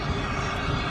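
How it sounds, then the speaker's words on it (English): Continuous broad roar of an airplane overhead under cloudy skies, in the London Luton Airport flight path, a steady distant rumble with no talking. "Well, of course it's a plane,"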